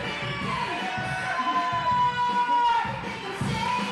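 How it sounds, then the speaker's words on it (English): Crowd at a live independent wrestling show reacting to a wrestler's new entrance theme, a broad sustained roar of voices and cheers mixed with loud music throughout. "it appears that the crowd is really into it"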